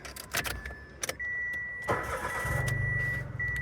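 A car engine cranks briefly and catches after the key turns, with a few clicks, then settles into a steady idle hum nearby.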